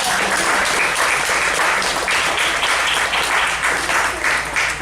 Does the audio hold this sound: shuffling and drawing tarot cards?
no